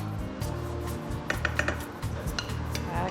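Cooked pasta tossed through bacon tomato sauce in a pan, giving scraping, clinking utensil-on-pan sounds in irregular bursts close up, with a low kitchen hum beneath.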